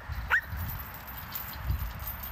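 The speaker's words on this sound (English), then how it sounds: "This dog's got a ton of drive." An older dog running on a Dogtrotter USA Scorpion slatmill lets out one short, high yip early on, over a steady low rumble and soft thumps from the mill.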